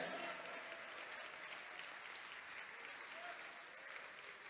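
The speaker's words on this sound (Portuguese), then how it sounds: "Vamos aplaudir mais o nome dele?" A church congregation applauds steadily throughout, a dense wash of clapping at a modest, fairly distant level with no voices standing out.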